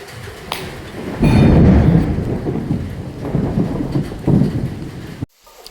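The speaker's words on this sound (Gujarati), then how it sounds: "ગોવામાં વરસાદ ચાલુ થઈ ગયો છે હવે 24 કલાક વરસાદ ને વરસાદ" Monsoon rain pours down in Goa, a loud, dense wash of drops with a heavy rumble of thunder that swells and fades before cutting off abruptly near the end.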